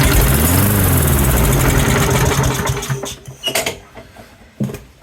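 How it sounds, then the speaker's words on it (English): A Briggs and Stratton lawn mower engine with a carburetor fault fires up on starting fluid, running loud and rough for a few seconds before sputtering down into scattered coughs and pops. "Once you get that chemical juice in there and it fires off like that"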